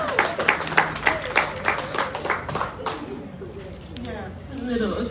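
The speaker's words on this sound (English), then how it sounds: "A round of applause, everyone." Audience applause for a pianist at a tribal conference gathering, a burst of claps in the opening seconds that thins into scattered clapping and murmuring crowd chatter, with birds faintly audible.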